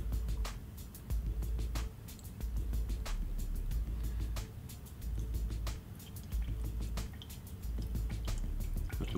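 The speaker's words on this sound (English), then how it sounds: "Open the tap, and I'm going to let the water layer run out into my beaker." Water drains from the tap of a glass separating funnel into a beaker, the layer parted from a eugenol and cyclohexane solution during clove oil extraction. It makes a steady run of quick, irregular drips and splashes, close up.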